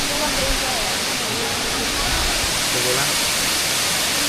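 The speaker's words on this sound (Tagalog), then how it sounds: "Nami diri karon sa Tamaraw Falls sa Puerto Galera." Tamaraw Falls in Puerto Galera pours in a dense, steady roar of rushing water, loud and close throughout, with a voice faintly audible beneath the continuous wash.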